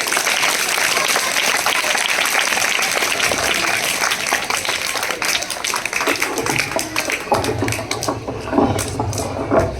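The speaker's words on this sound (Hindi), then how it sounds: "उनके लिए भी जोरदार तालियां" Steady applause from a crowd at a school Urdu Day event fills the space, dense and sustained, with a few voices rising near the end.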